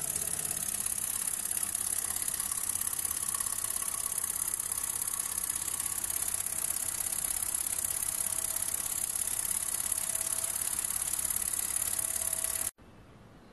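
A small ENJOMOR retro model steam engine runs with a steady hiss and a light mechanical rattle at an even pace, then cuts off abruptly just before the end.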